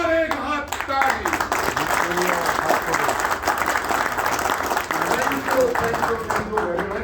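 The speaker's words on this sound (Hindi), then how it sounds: "जोरदार एक हाथ ताली।" Meeting attendees give a loud round of applause, with dense, vigorous clapping close by that runs continuously throughout, while a few voices talk over it.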